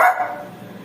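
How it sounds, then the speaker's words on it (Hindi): A pet dog indoors gives a single short, sharp bark that fades quickly, heard alone and fairly close. "डोरा क्यों भौंक रही है?"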